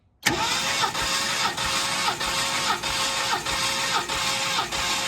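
A 1969 Mercury Cougar XR7 convertible engine cranks on the starter during a compression test, producing a loud, even whirring chug with regular compression pulses roughly every 0.6 seconds for about five seconds after an abrupt start.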